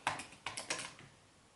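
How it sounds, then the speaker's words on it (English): Several quick, crisp clicks come from typing on a computer keyboard, close up and fairly faint, in a short uneven burst that trails off into quiet. "All right, let me just type it in."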